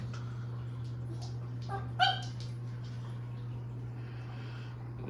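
A cat gives a short mew or two under a steady low electrical hum, brief and fairly close, with no talking.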